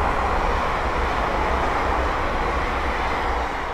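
Two London Northwestern Railway Class 350 electric units coupled together rush past on the West Coast Main Line at Linslade, giving a loud, continuous roar of wheels and air that stays steady throughout.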